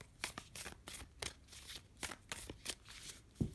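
Moonology oracle cards are shuffled by hand in quick, regular riffling flicks, a soft crisp rhythmic series of card slaps heard close up with no talking.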